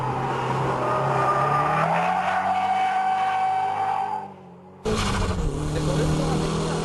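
In the Gran Turismo racing game on PSP, a car holds a power-over drift with a sustained, wavering engine roar and tire squeal, then cuts to silence for a moment before the engine noise returns.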